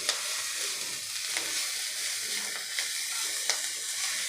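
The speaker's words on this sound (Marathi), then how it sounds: "अशी थोडी थोडी करत आपल्याला ही कोथंबीर यामध्ये घालून घ्यायची आहे आणि आपल्याला मिक्स करत राहायचं आहे" Chopped coriander is stirred and fried in a pan for a traditional Maharashtrian kothimbiricha chatka, making a soft, even hiss of frying with faint spatula scrapes now and then.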